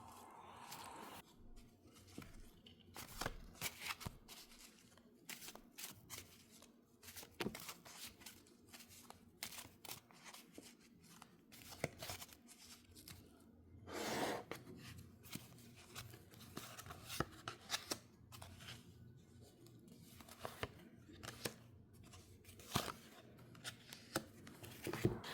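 Playing cards being shuffled for a reading, a run of quiet, close riffles, snaps and soft flicks in uneven bursts, with a louder shuffle partway through.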